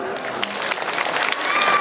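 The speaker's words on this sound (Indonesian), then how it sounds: "Mana aplausnya dulu, tepuk tangan." A crowd claps together at an Islamic religious gathering, with steady, dense applause throughout a brief moment and no clear talk over it.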